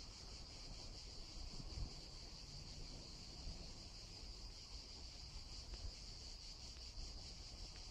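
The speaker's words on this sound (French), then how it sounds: "moi, j'ai des cigales, j'ai des oiseaux." Steady high-pitched cicada buzzing fills the background, continuous and even, with faint wind rumble underneath and no voices.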